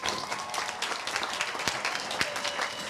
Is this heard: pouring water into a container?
no